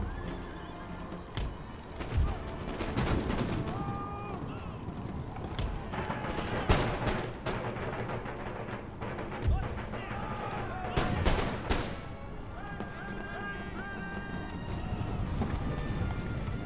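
Artillery firing canister shot in the Empire Total War battle game: repeated sharp booming blasts scattered over a busy din of horses neighing and hooves clattering, moderately distant and layered.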